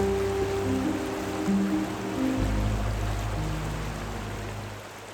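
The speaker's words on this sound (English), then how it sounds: "The river's right next to me and it's loud but so peaceful." Steady rushing water from a nearby river in Scotland in October fills the scene, broad and constant, with low tonal hums layered underneath.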